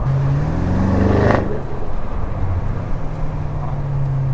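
Audi RS6 with a Milltek exhaust, engine revving loudly up to a peak near the middle and then dropping back to a deep, steady drone, heard close from inside the car.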